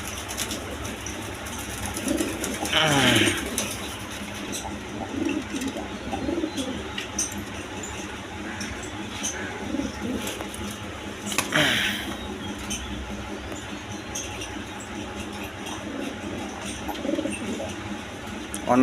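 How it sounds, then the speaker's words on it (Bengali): Racing pigeons, including a breeding pair sitting on eggs, coo in soft repeated phrases against a quiet background, with a couple of louder rustles and faint voices nearby. "এখানে এক পেয়ার রেশার কবুতর আছে এটা ডিমে আছে"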